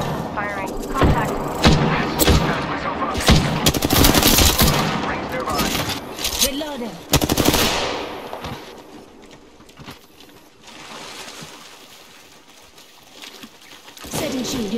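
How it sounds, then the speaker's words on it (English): Rapid weapon fire from the Apex Legends video game rattles in dense bursts through the first half, loud and close, with thuds and effects, then thins out into quieter game ambience before resuming briefly at the end. "They spotted me. I'm taking shots. Firing."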